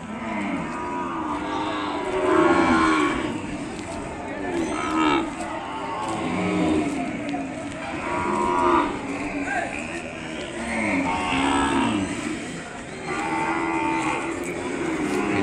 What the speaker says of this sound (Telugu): ఇవన్నీ ఆవు పేలు ఇవన్నీ.